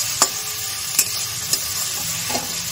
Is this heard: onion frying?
yes